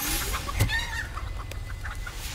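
A chicken in the video game Hogwarts Legacy gives several short, fairly faint clucks spaced over a couple of seconds, with one sharp knock near the start and quiet game ambience beneath.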